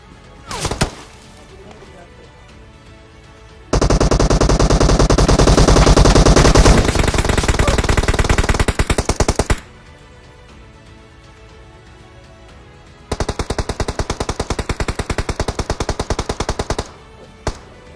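Rapid automatic gunfire from the PUBG Mobile battle royale game, loud sustained bursts of shots with a long stretch, a pause, then another burst, plus a few isolated shots at the start.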